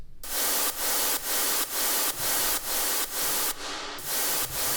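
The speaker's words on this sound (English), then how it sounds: "I want the white noise to kind of carry through" Bursts of bright white noise pulse in a steady rhythm through an electronic music drop, each loud wash cut by brief gaps, with one rising sweep near the end.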